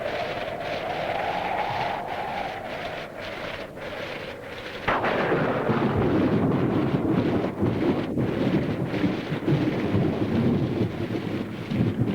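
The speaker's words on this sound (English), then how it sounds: "Now, you're not going out in that storm." Wind roars through a thunderstorm with low rumbling. A sudden heavy crack of thunder lands midway and leaves the storm louder and rougher afterward, with no voices.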